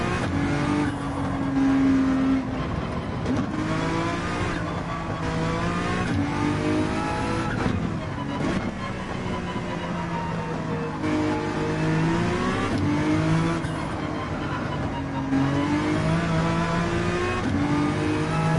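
Honda NSX mid-engine race car lapping the Nurburgring in Gran Turismo 7, its engine droning and rising steadily through repeated gear changes at close range, loud and continuous with no talking.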